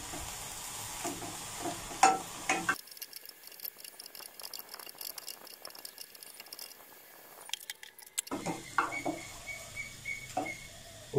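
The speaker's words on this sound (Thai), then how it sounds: "ผัดให้เข้ากัน" Choy sum, carrot, minced pork and shiitake stir-frying in a pan give close sizzling and scraping stirs, with a long stretch of muffled, quieter frying in the middle before the clatter returns.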